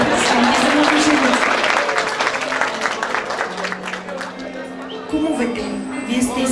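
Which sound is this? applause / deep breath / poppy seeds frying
applause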